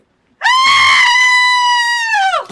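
A woman's single long, high-pitched scream, loud and sustained for about two seconds before breaking off abruptly, with no other voices.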